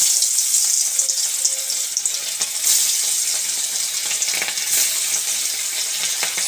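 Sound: dela fish frying in mustard oil

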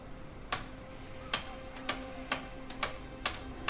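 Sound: hammering in the video game A Way Out

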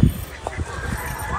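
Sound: ducks honking near a farm

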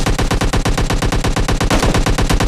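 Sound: gunfire in video game PUBG Mobile Lite

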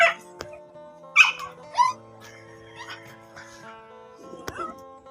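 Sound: dog barking and whimpering

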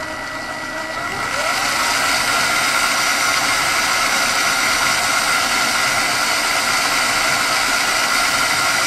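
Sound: Arduino-controlled guitar pickup winder DC motor spinning

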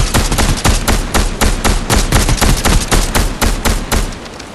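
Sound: gunshots in a video game

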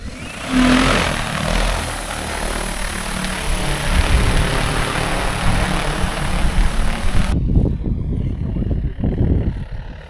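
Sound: agricultural spray drone taking off

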